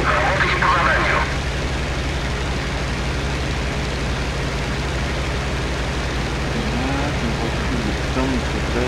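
A propeller aircraft takes off in the flight sim Il-2 Sturmovik, a steady droning engine roar throughout, with a voice speaking briefly at the start.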